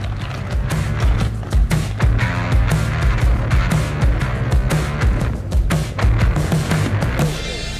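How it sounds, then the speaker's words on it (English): A Toyota Land Cruiser 76 drives off-road over obstacles along a Land Rover Defender's track, with loud rumbling and repeated clattering knocks and jolts throughout. "the Land Cruiser drove along the Defender's trajectory as if there were no impediments at all"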